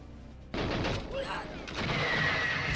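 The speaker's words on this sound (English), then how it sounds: "right there, you heard a sound of rocket launchers" Rocket launchers fire in a video game at a street roadblock, a sudden dense burst of blasts that breaks in after a brief quiet and then rolls on loud and continuous, with a second heavier volley near the end.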